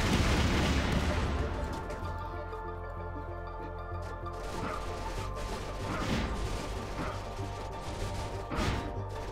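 Rifle gunshots ring out in a RimWorld video game battle, with dense crashing bursts and repeated sharp reports over a steady background.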